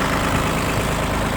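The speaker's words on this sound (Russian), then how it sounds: "Данный трактор работает, в принципе, ровно." A small ISEKI SIAL19 mini tractor with 1384 engine hours idles evenly, a steady low engine drone filling the whole moment with no talk.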